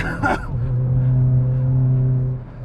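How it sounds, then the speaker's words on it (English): Engine of a Hyundai i20N hot hatch under hard acceleration, a steady loud drone that holds for most of the stretch after a brief burst of noise at the start, heard close from inside the car. "We're chucking it in hard down and accelerate."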